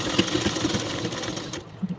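A sewing machine runs a short stitching burst along a blouse shoulder seam at a half-inch allowance, a quiet rapid rhythmic whirr that stops near the end.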